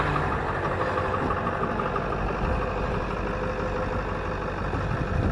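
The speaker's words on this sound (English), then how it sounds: "we'll shut that engine off, even though she's purred real nice" A pontoon boat's outboard engine idles steadily and evenly, a continuous close-up purr with no talk over it.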